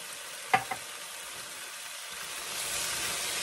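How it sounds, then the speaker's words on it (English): Butter and thyme sizzling in a pan, with two quick clinks of a gentle stir early on, then a steady soft frying hiss that rises slightly toward the end, no talking. "just give this a very gentle stir"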